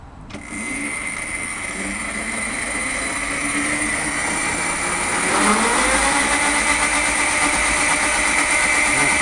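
A turbocharged engine runs steadily on a test stand, a sustained even drone with a whining tone that rises slightly partway through as the revs climb, loud and close with no talking.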